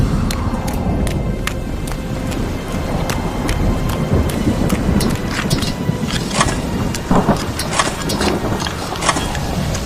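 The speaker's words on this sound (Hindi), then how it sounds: "बारिश शुरू हो गई।" Heavy rain pouring down with rumbling thunder, a steady dense patter with sharp drop hits growing busier over ten seconds, no voices.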